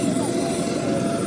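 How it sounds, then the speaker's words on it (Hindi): A helicopter landing at a political rally in Pakur gives off a steady, loud, close rotor and engine roar that fills the short stretch, with a voice talking underneath. "सुदेश महतो का हेलीकॉप्टर लैंड कर चुका है"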